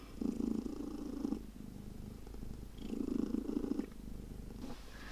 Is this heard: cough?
no